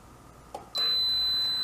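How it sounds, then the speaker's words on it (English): A leak alert from an EcoNet Bulldog smart water leak system: a brief soft blip, then a sustained high electronic beep tone that starts abruptly and holds steady, close and clear. "Alright, there's our leak alert."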